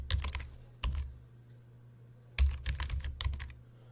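A word typed on a computer keyboard: two short bursts of close key clicks separated by a pause, with no voice.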